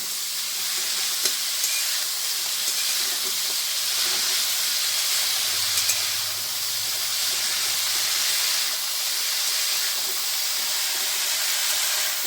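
Chopped pumpkin greens hissing and sizzling in a hot pan while being stirred, a steady, loud, dense frying noise lasting throughout.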